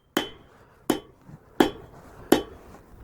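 Four sharp hammer blows ring on an anvil at an even, unhurried pace, each a bright metallic strike that quickly fades, as hot steel is forged into a short two-sided taper for a cabinet handle.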